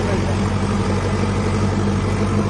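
Loud, close, steady low rumble of a Sonalika 50 tractor engine running while ploughing in third medium gear, droning evenly throughout.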